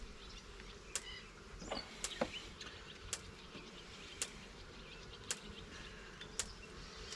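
Honey bees from a relocated swarm buzzing in a low steady drone, with a few sharp clicks and taps recurring at intervals over the hum.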